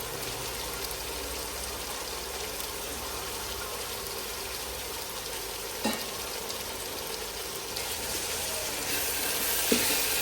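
Brinjal and tomatoes fry in a pan with a steady, soft sizzle, broken by a couple of brief clinks or scrapes of stirring near the middle and end.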